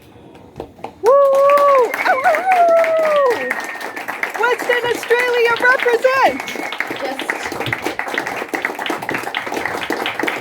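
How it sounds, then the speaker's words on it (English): A crowd at a live poetry performance claps and whoops to welcome a poet to the stage, the applause swelling suddenly and continuing under excited shouting and a voice calling out. "A big clap."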